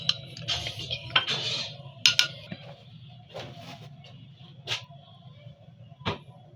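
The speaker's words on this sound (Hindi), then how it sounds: "इसको मिक्स कर लेंगे।" A spoon stirs amla and ginger in a metal pot, scraping and clinking at an uneven pace, close and fairly soft over a low background hum.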